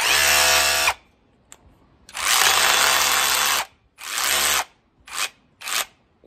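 A KIMO hammer drill runs in loud, harsh bursts: one before the first second, a long run of about a second and a half, then three shorter pulses separated by silence.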